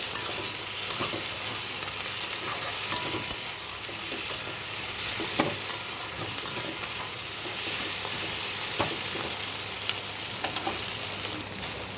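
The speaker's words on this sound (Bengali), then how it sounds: "অল্প করে আদা বাটা দিয়ে দেবো" Ginger paste fries in a pan under a constant sizzle while a utensil stirs it, the scrapes and taps scattered irregularly across the steady frying hiss.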